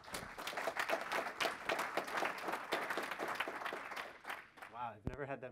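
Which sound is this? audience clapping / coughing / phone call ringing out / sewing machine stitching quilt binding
audience clapping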